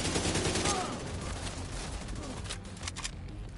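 Gunfire in The Division 2 on PS4 Pro, a dense, continuous fusillade of overlapping automatic bursts throughout, loud and sustained.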